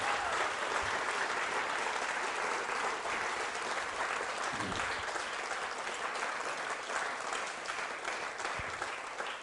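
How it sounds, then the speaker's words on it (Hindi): A school audience at a quiz show event gives sustained, loud applause for nearly ten seconds, a dense and steady clapping texture that eases slightly toward the end. "और तालियां बजाइए वाई के शर्मा साहब के लिए"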